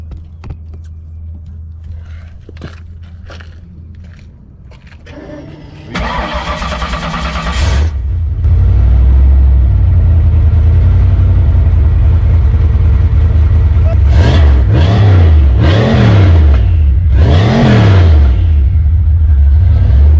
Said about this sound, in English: We're gonna get some exhaust sounds from this turbo real quick, guys.